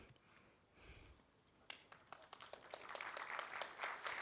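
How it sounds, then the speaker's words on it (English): Applause from a conference audience at a high-level forum starts with a few scattered claps, then swells into steady, dense clapping that grows louder toward the end. "Give her a big hand clap."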